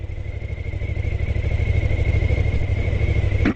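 A motorcycle fueled with 91 octane at a Chevron gas station, its engine thrumming in a low, steady pulse up close as it pulls away, ending with a sharp clunk.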